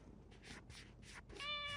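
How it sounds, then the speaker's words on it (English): A cat meows several times in quick succession nearby, soft repeated cries that end in a longer, clearer call. "So excuse me if you hear any cat noises."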